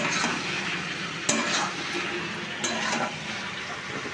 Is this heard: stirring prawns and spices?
yes